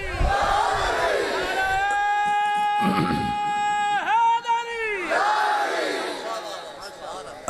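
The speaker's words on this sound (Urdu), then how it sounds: "یہ نعرہ بھی ہے, نعرہ حیدری" A large crowd at a Muharram sermon on the martyrdom of Imam Hussain shouts the Naara-e-Haidri slogan in loud, sustained unison, voices rising and falling in long drawn-out calls.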